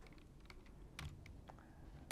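Brief bursts of computer keyboard typing as decimal numbers are keyed in, a few scattered soft key clicks at close range over a quiet room hum, with no talking.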